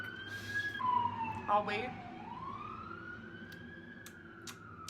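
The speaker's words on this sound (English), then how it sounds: "I live right by the fire department also, so I don't think that's an ambulance. I think it's a fire truck." A fire truck siren wails past outside a dorm near a fire station, its pitch sweeping down and back up while fading at moderate distance, with a few clicks, faint background hum and a brief spoken phrase over it.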